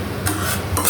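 Dalia porridge cooking with milk in a pot is stirred with a spoon, giving two quick scraping swishes against the pot over a faint simmer, close and clear.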